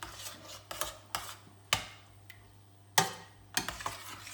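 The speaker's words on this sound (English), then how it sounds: "I'm going to stir this in." A spoon stirs cream into soup in a pot, making a series of sharp metallic clinks and scrapes against the sides, spaced about half a second to a second apart, fairly quiet with no talk.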